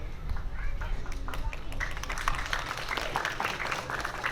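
Scattered, tentative applause from an audience at a comedic stage performance, faint and thin, a few hand claps rising under a continuous murmur of someone speaking.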